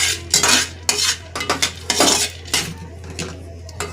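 A spoon stirs almonds, raisins and charoli as they dry-roast in a pan, scraping and clinking against the metal in irregular bursts, close and fairly loud with no voices.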